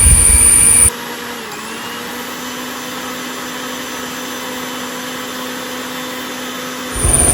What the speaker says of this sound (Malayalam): ഈ മുപ്പത്തഞ്ച് മാങ്ങ ഞങ്ങൾ ഏകദേശം മൂന്ന് പ്രാവശ്യമായിട്ടാണ് മിക്സിയിലിട്ട് അരച്ചത്